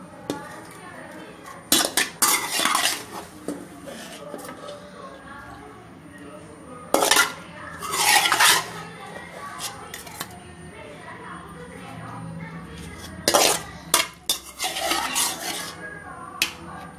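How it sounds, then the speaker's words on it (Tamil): Anchovies being tossed and stirred in hot oil in a pan while cooking nethili meen kulambu, heard as intermittent metallic scraping and clinking of a spoon against the pan, with quieter stretches between the bursts. "நம்ம கழுவி வச்சுருக்க இந்த நெத்திலி மீன் அதில் போட்டுக்கணும்"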